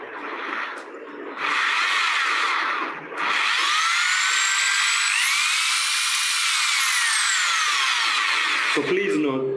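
A Bosch GSB 500 RE impact drill whirring loudly in short bursts, then running steadily with a rising whine as its speed climbs, near and dominant before stopping abruptly.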